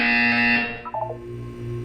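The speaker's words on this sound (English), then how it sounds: "When you hear the buzzer, look down at the floor." A flat, electronic buzzer tone from the video game Portal 2 sounds loud and steady for about half a second, then gives way to a few short stepped tones and a low hum.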